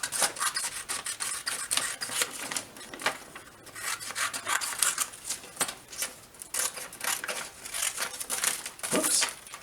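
Scissors cutting a heart shape out of junk mail paper, a run of close crisp snips and rustles in irregular bursts, no talking.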